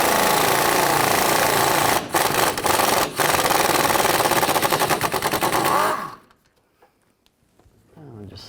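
An impact tool loosens the 14mm bolt holding the fork to the strut of a 2008-2012 Honda Accord, a loud continuous rattling hammer for about six seconds with two brief pauses, then stopping abruptly into near quiet.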